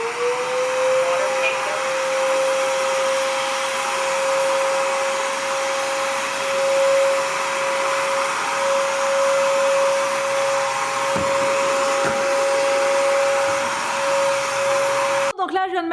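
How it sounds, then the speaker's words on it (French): A robot vacuum cleaner runs on the floor with a loud, steady whirring motor and a constant high whine, continuing without a break for the whole stretch before a brief clatter right at the end. "on va tester l'aspirateur"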